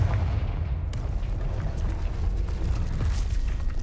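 A Confringo fire spell blast in Hogwarts Legacy, a booming burst at the start followed by a rumbling, crackling roar that carries on with scattered pops and impacts, loud and close.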